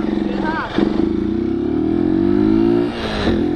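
Motorcycle engine revving and accelerating loudly and close during a wheelie attempt, a steady rising drone with a brief dip near the end, with people talking over it.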